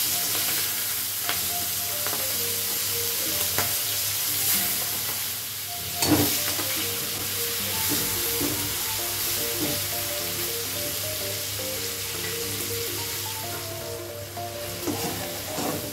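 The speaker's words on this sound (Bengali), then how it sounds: "চিংড়ি মাছটা আমি ভেজে নিলাম।" Shrimp frying in mustard oil sizzles steadily throughout, a dense close hiss with occasional stirring scrapes and a brief louder burst near the middle, no voices.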